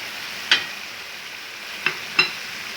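Seasoning of coriander powder, salt, red chilli and turmeric fries with chicken in a pan, giving a low steady sizzle broken by three short clinks or scrapes of stirring.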